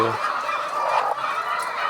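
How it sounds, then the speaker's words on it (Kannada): Egg-laying hens at a poultry farm cluck and squawk in a busy, overlapping chorus, fairly close and continuous throughout. "ಇದು ಈ ಕೋಳಿ ತತ್ತಿ ಹಾಕು ಫಾರ್ಮ ನೋಡಿ ಇದು ಮ್ಯಾಲ ಕೋಳಿ ಇದಾವೆ"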